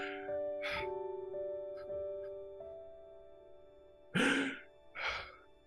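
A voice imitating the irregular, interrupted breathing of someone in an anxiety or panic attack: sharp gasping breaths broken by pauses, with two louder, harsher gasps near the end, over a faint steady tone.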